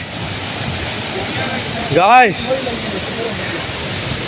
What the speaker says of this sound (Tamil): தண்ணி சத்தம் அதிகமாக இருக்குது